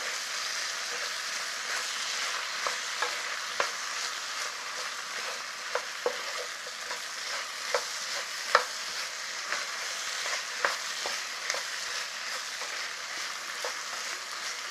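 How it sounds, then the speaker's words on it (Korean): Ingredients stir-fried in chili oil for Korean yukgaejang sizzle steadily in a pan, with scattered sharp pops and clicks of stirring on top of the continuous frying hiss. "이걸 오랫동안 볶으래요."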